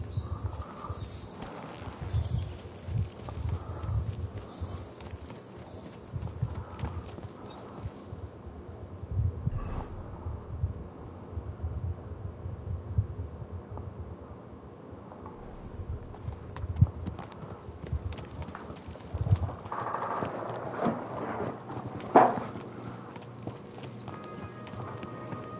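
Soft, steady horse hoofbeats in the video game Kingdom Come: Deliverance 2 clip-clop at a walking pace through most of the stretch, faint and mid-distance, with a brief snort or whinny near the end.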